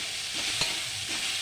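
Cumin paste sizzles steadily in a pan over low gas, a soft, even frying hiss with a faint stir in the middle.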